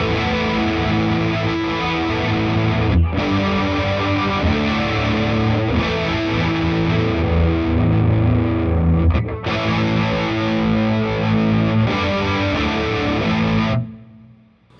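Electric guitar played through a chorus effect pedal, sustained distorted chords ringing continuously with a shimmering, wavering modulation, loud and alone with brief gaps between strums before fading out at the end.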